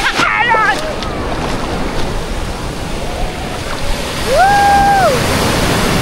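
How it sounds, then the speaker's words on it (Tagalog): Big ocean surf breaking at Baler, Aurora, a steady broadband wash of waves and wind that swells louder toward the end, with brief whistles and a voice rising over the roar. "Ang laki ng surf. Ay, ang laki ng alon."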